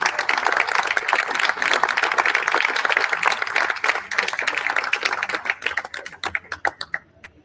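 Commemoration crowd in Puerto Rico applauding to welcome a musician and singer, sustained clapping from many hands that thins out toward the end into scattered individual claps.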